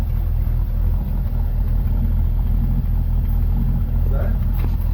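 A 1968 Ford Mustang that sat for 30 years runs on its first start, a steady, close, low engine rumble held for several seconds as people talk over it.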